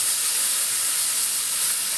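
Cumin, coriander, chili and turmeric hit hot oil in a pan for Bengali vegetarian cooking, giving a loud, even sizzling hiss that runs unbroken without any voices.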